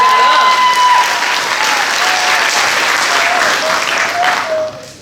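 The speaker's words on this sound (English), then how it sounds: "Give yourselves a round of applause." An adult education graduation audience fills the space with steady, loud applause for about five seconds, the clapping dense and sustained before tapering at the end, with a voice speaking over it.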